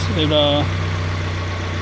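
A Mazda Miata engine idles steadily with a low, even rumble after a lifter tick fix, briefly overlapped at the start by a short tonal sound.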